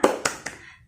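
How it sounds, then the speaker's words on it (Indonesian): A class of fifth-grade children claps a rhythmic classroom chant, three quick sharp clap bursts close by, each fading into the room. "ibu mau kalian tepuk semangat dulu biar semangat belajarnya"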